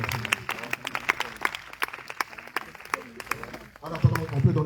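A church congregation at a night healing prayer service applauds and cheers, scattered sharp claps over a murmuring crowd, with voices and acclamation swelling louder near the end.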